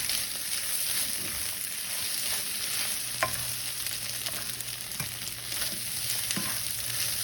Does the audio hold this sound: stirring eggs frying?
yes